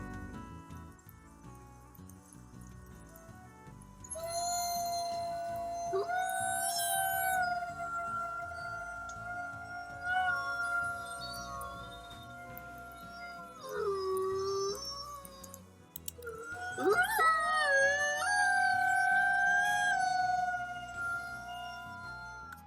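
Wolves howling, long sustained tonal howls rising and falling, several overlapping voices joining in midway with a louder chorus near the end, clear and alone without talk.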